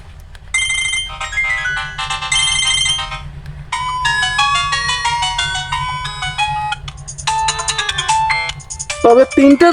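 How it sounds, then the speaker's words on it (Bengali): An itel Power 451 Core phone plays its ringtone, a bright, loud electronic melody in repeated tonal phrases with short gaps, close by, ending in a few lower notes. "এই ফোনটির যে রিংটোনের ভলিউম সেটা একটু শুনি।"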